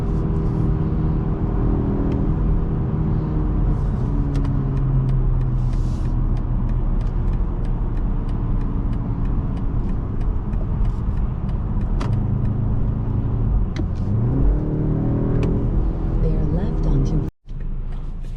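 A 2024 BMW 530i xDrive engine pulling in sport mode, a steady loud drone with the pitch climbing through gears, heard from inside the cabin, ending in a brief dropout.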